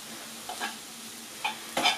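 A spoon stirring a meatless vegetable filling with chives for stuffed peppers in a pan just taken off the gas, a few soft scraping strokes over a faint lingering sizzle, close and quiet.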